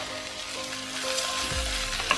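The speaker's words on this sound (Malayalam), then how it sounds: "ഇനി നമുക്ക് പയറിടാം." Kerala-style long beans tipped into a hot pan with small onions and fresh chillies, producing a short burst of close sizzling with a low thump as they land.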